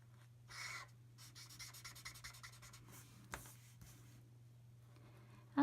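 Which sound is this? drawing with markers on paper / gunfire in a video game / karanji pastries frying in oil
drawing with markers on paper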